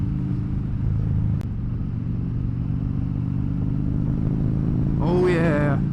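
Kawasaki Ninja 400 motorcycle at a moderate riding pace, a steady loud engine drone with wind rush throughout, and a brief voice speaking near the end.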